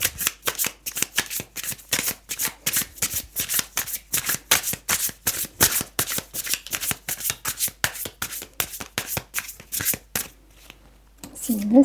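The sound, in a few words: shuffling tarot cards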